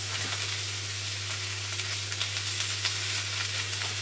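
Sausages frying in a pan for bangers and mash give a steady, close sizzle with scattered pops and crackles, over a constant low electrical hum, with no talking.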